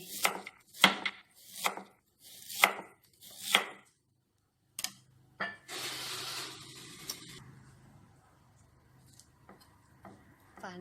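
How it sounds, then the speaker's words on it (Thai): Young ginger sliced with a knife on a board, five sharp evenly spaced chops and then a few more, followed by softer scraping and rustling that fades, close and clear with no speech. "ส่วนขิงเราจะฝานก่อนนะคะแล้วค่อยมาซอย"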